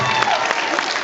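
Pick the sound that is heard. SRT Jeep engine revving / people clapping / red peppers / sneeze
people clapping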